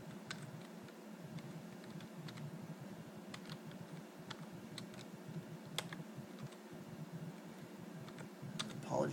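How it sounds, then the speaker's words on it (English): Slow, scattered key taps from someone entering a password one-handed on a computer keyboard, faint and close over a low steady background hum, with no voices. "I'm going to type in my password"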